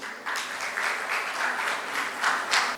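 Conference audience at a textile trade conclave in Mumbai bursts into applause, a moderately loud, steady wash of many hands clapping in fairly even rhythm that swells slightly near the end.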